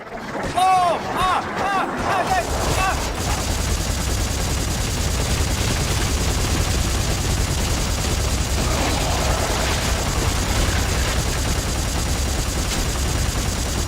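Gunfire in the video game Dead Space 3 rattles as a dense, continuous burst of rapid shots, loud and close, after a brief opening of clinks and tones.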